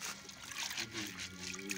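Water trickles and splashes as it is poured over corn being washed, a faint, brief liquid dribble close to the microphone.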